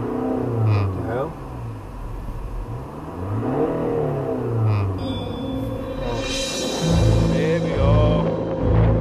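Land Rover Discovery Sport accelerating on snow during extreme winter weather in the UK, a steady mid-pitched engine drone rising in revs, close and loud, with people talking over it.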